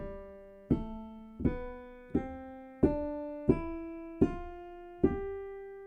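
Eight separate notes played on the white keys of a keyboard climb step by step in an even, unhurried rhythm, each struck cleanly and left to ring briefly, with no voices.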